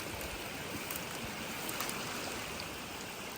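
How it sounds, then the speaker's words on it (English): Runoff after a big storm streaming off a hillside into a ditch at an excavated pond bottom, an even, faint rushing hiss of flowing water with no break. "Just running water."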